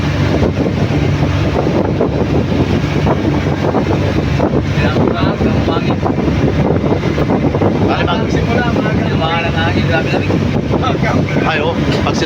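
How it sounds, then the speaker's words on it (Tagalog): Heavy rain pounds down amid strong gusting wind on a cold day, a loud, dense, unbroken roar buffeting the microphone throughout, with voices faintly under it. "sama talaga ng lakas talaga ng ulan"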